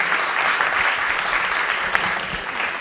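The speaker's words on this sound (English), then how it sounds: "Thank you for clapping for them." Sustained audience applause at a women's day event, a dense steady wash of many hands clapping together for the seniors, fairly loud and continuous throughout with no pause.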